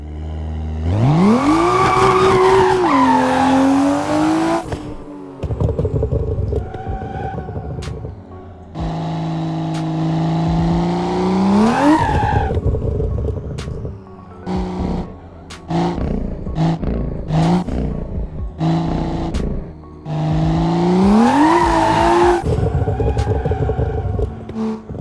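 BMW M2 engine in the Assetto Corsa racing game at a drift park, loud revving that climbs and drops in repeated bursts with throttle blips, sustained high-rev pulls and tire squeal between short pauses.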